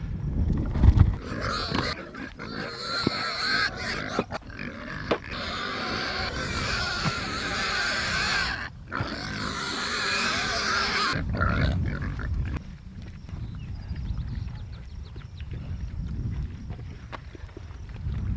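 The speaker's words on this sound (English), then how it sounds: "I'm gonna go take care of these pigs" Pigs grunt and snort close by in a busy barnyard, with shuffling and rustling between the calls and a quieter stretch near the end.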